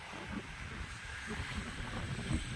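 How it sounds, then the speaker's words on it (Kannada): Strong gusts of wind blow through trees, a rushing, roaring wash with a buffeting, surging rhythm, close and fairly loud, with no voices. "ಗಾಳಿ ನೋಡಿ ಯಾವ ರೀತಿ ಬೀಸ್ತಾ ಇದೆ ಅಂತ ಎಷ್ಟು ಜೋರು ಮರ ನೋಡಿ ಗಿಡಗಳೆಲ್ಲ ಯಾವ ರೀತಿ ಆಗ್ತಾ ಇದೆ"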